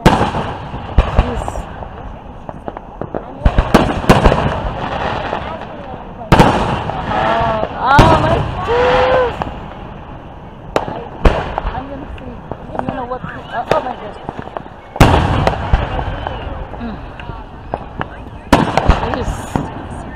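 Hometown Independence Day fireworks burst in repeated loud cracks and booms, some in quick clusters, with crackling tails between blasts while excited voices talk and exclaim throughout.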